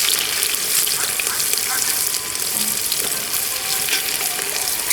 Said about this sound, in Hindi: अब इसमें हम डालेंगे बारीक कटा हुआ प्याज